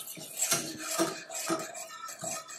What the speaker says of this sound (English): And we're going to heat this up and stir it the whole time.